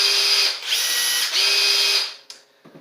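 Two Makita impact drivers, one oil-impulse and one traditional, spinning freely in a steady high whine that runs for about two seconds with brief dips, then stops with a few faint clicks.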